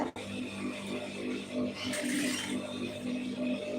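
Sewing machine running a single line of stitching along the folded edge of a plain blouse, with a steady mechanical whir and rapid needle clatter, close and continuous with no voices.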